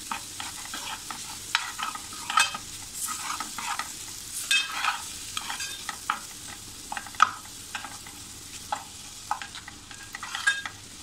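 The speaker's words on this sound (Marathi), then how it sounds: "हा जो टोमॅटो आहे तो सुद्धा त्याच्यामध्ये आपण परतून घेऊया" Tomatoes are sautéed and stirred into masala in a pot over a low flame for egg masala. A soft frying hiss sits under repeated close spoon scrapes and clicks that come irregularly throughout.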